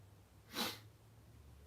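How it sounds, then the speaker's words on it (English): One short, sharp sneeze comes from a person, close and fairly faint against a low steady hum. "I usually sneeze in 4s."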